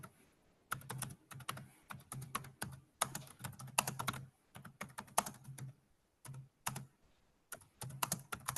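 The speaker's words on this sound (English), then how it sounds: "I'm just typing it right now" Quick, irregular keystrokes clatter on a computer keyboard in bursts with short pauses, close by and fairly quiet, with no voices.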